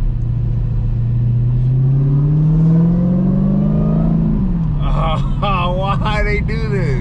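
Dodge Hellcat engine rumbling and climbing in revs as it accelerates while driving, a strong low drone rising steadily, with people talking excitedly over it near the end.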